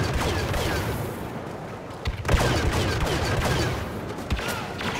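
Rapid bursts of T-21B blaster rifle fire crackle through a Star Wars Battlefront match in the ice caves, sharp repeated shots layered over dense battle noise and explosions.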